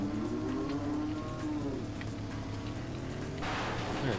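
In the Carmageddon video game, a cow lets out a low drawn-out moo over a constant engine drone, ending with a burst of crash noise near the close.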